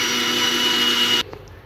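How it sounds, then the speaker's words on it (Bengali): Electric blender whirring loudly and steadily as it blends cold eggs from the fridge for a rice cooker cake batter, then cutting off abruptly near the end, leaving quiet room sound. "তো এটা আমি ব্লেন্ড করে নিচ্ছি।"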